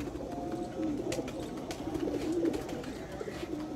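Sialkoti flying pigeons coo steadily and softly in a rooftop loft, a continuous low burbling over constant background noise.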